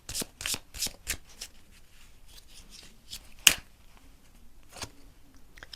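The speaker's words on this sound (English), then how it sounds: "Let's get 3 more cards from the Lenormand." Lenormand cards riffled and drawn by hand, several quick papery shuffling bursts at the start, then scattered slides and snaps of single cards being pulled, close and fairly quiet.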